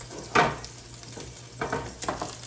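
Turkey burgers sizzle in a hot pan while being flipped, a steady frying hiss broken by a few louder scraping, sputtering bursts as each patty turns.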